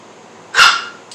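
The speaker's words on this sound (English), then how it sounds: "And once again, that's my dog." An excited pet dog begging for a meatball lets out a single sharp, close bark over quiet room noise.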